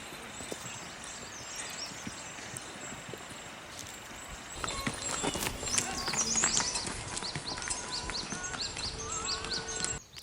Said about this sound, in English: The donkeys are coming, oh my god.